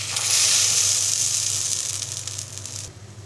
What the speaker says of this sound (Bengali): এভাবেই একটা একটা করে চিতই পিঠার মিশ্রণ কড়াইতে দিয়ে দিব।